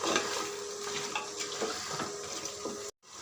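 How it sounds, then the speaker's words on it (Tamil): A utensil scrapes and stirs rice through a pot of mutton biryani in repeated strokes, with a steady sizzle and light clinks of metal underneath, ending in a brief silence. "இப்போவே போட்டு கொஞ்சம் கிளறிக்கிறேன்"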